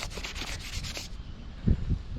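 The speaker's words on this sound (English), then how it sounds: "Now it's on to the sanding." Steady abrasive rubbing of sandpaper on a wooden knife handle, a close, continuous scratchy texture with a couple of heavier strokes near the end.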